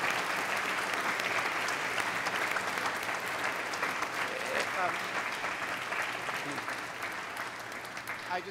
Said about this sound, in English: I want to have another round of applause for our Washburn recipients, Jamie and Adam.